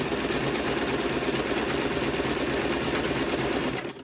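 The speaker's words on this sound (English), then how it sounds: "I stitch right up to the edge" A sewing machine runs steadily while stitching a memory cushion, a close, loud continuous whir for about four seconds before it stops abruptly, with no talking.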